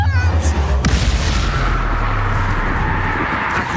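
Levioso spell cast in Hogwarts Legacy, a loud booming magical burst with a sharp crack near the start, followed by a sustained rumbling wash that fades slightly over a few seconds.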